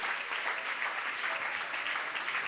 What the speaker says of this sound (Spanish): No se ahorre batir las palmas.